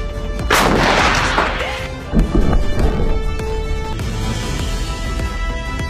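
A D20 152mm gun-howitzer fires a single shell, one heavy, sharp boom followed by a long rolling rumble and echo, loud and close, with no voices.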